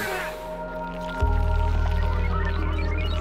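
Steady mechanical pumping hum with a low droning buzz kicks in partway through, over faint gurgling water sounds, as water is pumped in the video game Oxygen Not Included.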